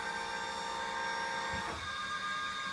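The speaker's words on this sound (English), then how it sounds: "if I tilt the motor up with the tilt system, the computer will raise the hatch so the motor doesn't hit the hatch" A hydraulic tilt system raises the outboard motor on a 22-foot high-efficiency runabout while an automatic engine hatch lifts, giving a steady mechanical whir and hum with a brief clunk midway, close and continuous.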